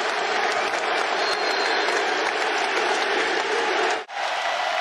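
A basketball arena crowd in Chicago applauds Derrick Rose on his return, a dense, loud ovation that dips sharply for a moment before resuming.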